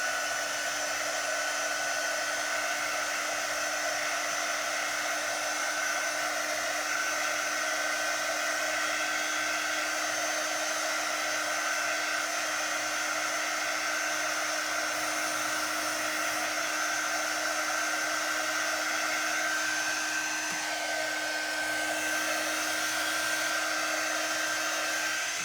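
A hair dryer blowing on the icing of a gingerbread kit, a steady, loud whine with a constant pitch that runs unbroken for the whole stretch.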